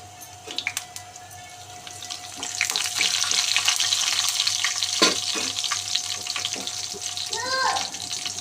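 Cumin seeds and garlic crackle in hot oil, a dense, steady hiss with scattered pops, close and fairly loud, building up after a few quieter taps at the start.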